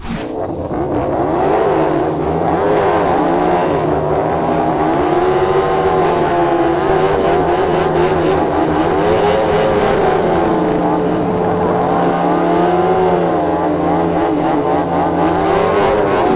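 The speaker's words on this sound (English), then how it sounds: "It'd be great to see some burnouts to end the video." A KTM motorcycle, either a MotoGP race bike or a road bike, does burnouts at a drag race. Its engine revs loud and continuous, with repeated rising and falling surges of pitch.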